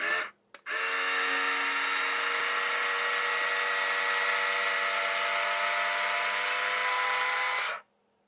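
The electric motor of a Laegendary Tipper rotating box whirs steadily and slowly on a workbench, a close, even, high-pitched whine that holds for about seven seconds after a short start before cutting off.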